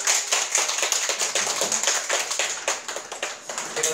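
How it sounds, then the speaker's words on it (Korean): A group claps together at a morning staff training session, with quick, steady, sharp hand claps repeated for about four seconds and no voices over them. "박수 한번 치고 시작할까요?"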